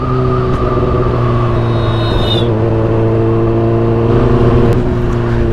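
Kawasaki ZX-10R sport motorcycle with a loud aftermarket exhaust, a steady close-up engine drone with a rising whine partway through, alone without talk.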